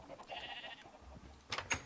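Upset cows in the Minecraft mod Better Than Wolves, heard as a few bleating, lowing animal calls: one sustained call early on, then two sharper calls near the end, moderately loud, with no talk over them.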